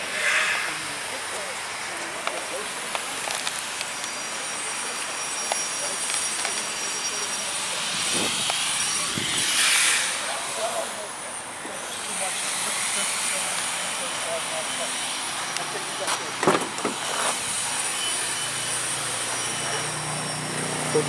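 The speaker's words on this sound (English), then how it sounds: "So if you wonder why it's so noisy" Steady construction noise from a site behind a person standing outside beside a vehicle, a continuous broadband roar with occasional sharper knocks and a rising machine drone midway, running loud throughout under and between bits of talk.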